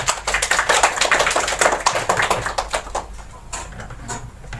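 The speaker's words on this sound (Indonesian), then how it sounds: "Tepuk tangan buat Nativa." Classroom applause for a student during a mathematics lesson: a brisk burst of many hands clapping close by, dense at first and then thinning out toward the end.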